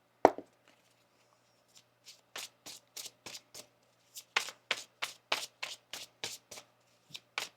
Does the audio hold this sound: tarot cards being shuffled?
yes